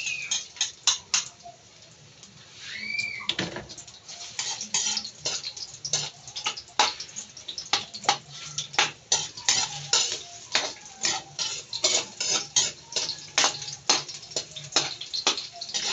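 Onions stirred with a utensil in a lightly oiled pan for pinakbet, giving rapid repeated scraping and clinking strokes against the pan, steady and close, with no talking.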